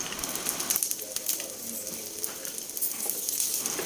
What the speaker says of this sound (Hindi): ब्रेड टोस्ट को पैन पे डाला है।